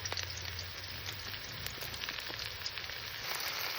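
Sliced onions frying in hot oil until reddish-brown, with ginger-garlic paste added, for a village-style rui fish curry with taro; a steady, faint sizzle with small crackles close by.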